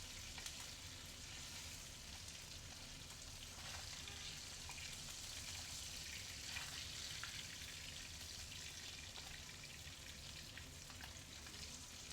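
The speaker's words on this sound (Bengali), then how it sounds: "এখানটা আবার চিকেনটা ভুনা করে নিচ্ছি" Steady sizzling of chicken frying in a pan, a continuous crackling hiss with occasional stirring scrapes, no voices.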